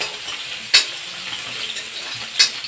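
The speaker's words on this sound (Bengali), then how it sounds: "একদম ভালকৈ ভাজি লৈছোঁ পিঁয়াজ আদা নহৰু জলকীয়া" Onion, ginger, garlic and chili fry in a pan with a steady, hissing sizzle. Two brief scraping stirs break through the sizzle, and no one speaks.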